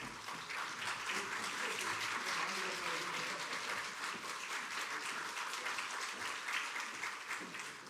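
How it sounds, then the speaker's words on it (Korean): A church congregation applauds during a scholarship presentation, a steady, fairly quiet wash of many hands clapping that holds evenly for the whole stretch, with no clear voices over it. "우리 장학금 전달될 때 우리 박수로 감사의 말 함께 전하도록 하겠습니다"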